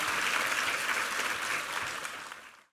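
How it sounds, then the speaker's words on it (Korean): A church congregation at a Korean Sunday service claps together in steady, dense applause that holds level, then quickly dies away at the end. "우리 하나님께 감사와 영광의 박수 올려드리겠습니다"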